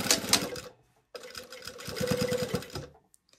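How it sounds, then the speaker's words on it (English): A sewing machine top-stitching fabric runs in two quick bursts, its needle hammering rapidly and steadily up close, with a short pause between runs. "now we're gonna put it back under the machine and top stitch that down"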